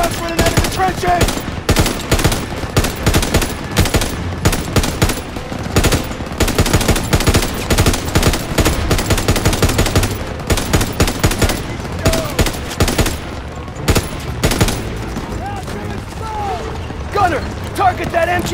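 MG-42 machine gun fire in the Call of Duty: WW2 campaign, a loud, relentless stream of rapid bursts and explosions along with battlefield clatter, and shouted voices are heard among the gunfire.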